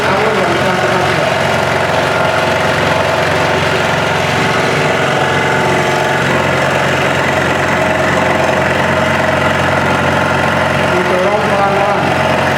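A scroll saw cuts through wood during a woodworking lesson, a steady buzzing motor drone with rapid vibrating blade chatter, loud and continuous for the whole stretch.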